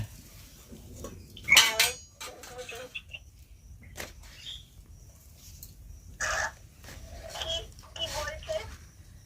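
Coconut shrimp pitha being flipped in a wok on a stove, with scattered metallic clinks and scrapes of a utensil against the pan among quiet pauses while a voice talks now and then.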